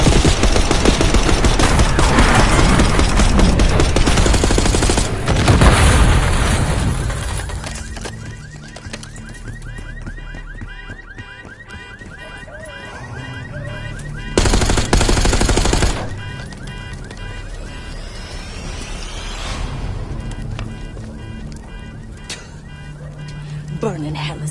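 Bursts of automatic gunfire in a Black Ops 6 campaign mission, loud and rapid, dense around the opening seconds and again mid-way, with shouted voices, music and other game sounds weaving between the volleys.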